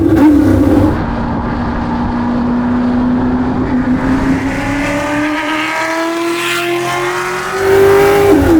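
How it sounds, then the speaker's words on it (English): A Shelby GT350 driven hard through canyon roads, its engine loud and close, revving up in rising, sustained pulls with a brief lift between them and a sharp surge again at the end. "Oh my God, the sounds this car makes."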